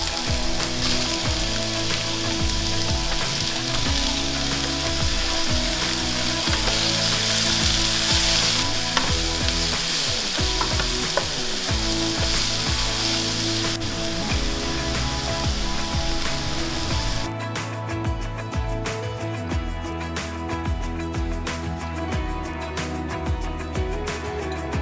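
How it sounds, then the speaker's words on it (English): Mushrooms and onions sautéing in olive oil in a skillet, a loud steady sizzle and crackle lasting throughout, with occasional stirring scrapes. "we're gonna go ahead and saute our mushrooms and our onions."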